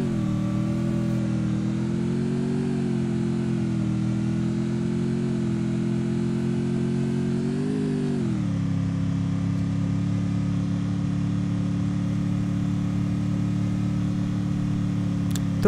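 A motorbike engine in a battle royale video game holds a steady droning hum throughout, rising slightly in pitch before settling lower after a brief shift, loud and continuous with no voices.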